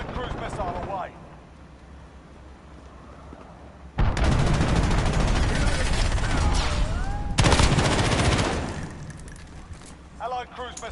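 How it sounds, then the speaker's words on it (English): An allied cruise missile strike in a first-person shooter video game, with sustained loud roaring blasts and rumbling explosions for several seconds amid gunfire, and people talking before and after. "Allied cruise missile away."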